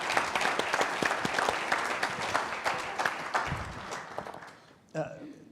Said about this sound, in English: we should applaud John first